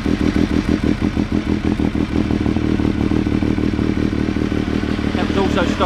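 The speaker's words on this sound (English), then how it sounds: "the wonderful sound the Triumph Daytona 955 triple with the carbon high level exhaust" A Triumph Daytona 955 triple motorcycle with a carbon high-level exhaust idles loudly and close, its three-cylinder engine throbbing in a steady rough pulse with mechanical clatter, a voice speaking over it.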